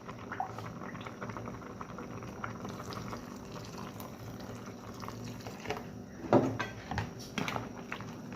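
Thick lomi soup bubbling in a pot, a steady low gurgle of boiling with a brief louder clatter and splash near the end, close and fairly quiet, no talking.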